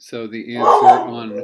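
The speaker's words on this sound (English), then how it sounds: "sorry about my dog" A dog gives a short sharp bark with a whining edge, loud and close, heard during a man's math lesson as his voice continues alongside it.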